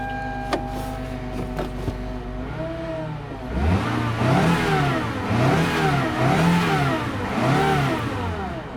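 A 2011 Toyota Camry engine idles, then revs up and down several times in a rhythmic series of rising and falling swells, close and fairly loud.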